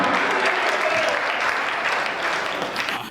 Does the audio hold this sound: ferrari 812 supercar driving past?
no